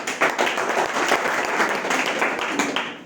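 A classroom audience bursts into loud, sustained clapping that continues steadily for about three seconds, a dense wash of many hands with no break.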